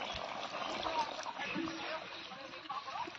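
Water poured into a pan of prawn curry cooking in an Odia home kitchen, a faint steady splashing and trickling under a voice talking.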